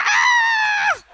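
A person's voice imitating a pet bird's scream, one loud, sustained shrill cry about a second long that drops off at the end.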